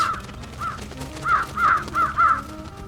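Several crows caw in the video game Trüberbrook, a series of hoarse calls that come faster and louder toward the end over a quiet background hum.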